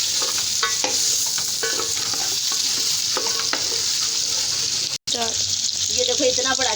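Ingredients for aloo matar pulao roast in a pot with a loud, steady sizzle, while a spoon scrapes and knocks the pot in irregular strokes throughout. One short drop-out breaks the sound near the end.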